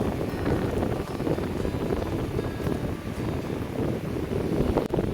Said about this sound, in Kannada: ಫುಲ್ ಗಾಳಿ ಜೋರುಂಟು